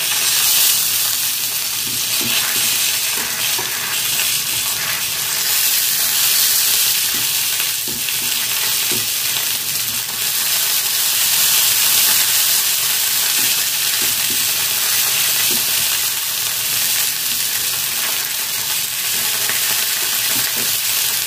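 Mocha paturi, banana flower wrapped in leaf, fries in a pan with a loud, continuous sizzle and hiss, steady throughout with faint crackles and no talk.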